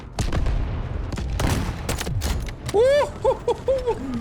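Gunfire in the shooter game Delta Force: a burst of sharp, loud shots in quick succession, followed by a couple of whistling, ringing tones and a few short blasts, with no talking over it.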